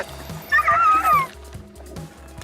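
Sled dogs in Greenland whimper and yip while being fed seal meat, a high whining cry rising briefly over a steady background of dull thuds and rustling.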